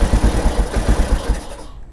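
A motorcycle engine idles just after being started, a loud, close, rapid pulsing chug that fades and cuts out at the end, with no one talking.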